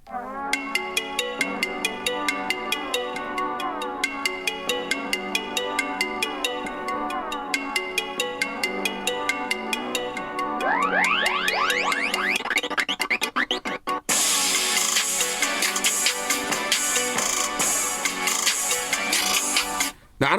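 Music from a Redmi phone's built-in speaker: a song plays loud and steady, a rhythmic beat building through rising sweeps into a brief pause and a fuller, busier drop.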